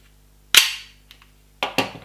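A WE Tech G19 gas blowback airsoft pistol fires three sharp, close cracks, one shot followed after a pause by two quick ones, each with a brief metallic clack of the slide, in a quiet room.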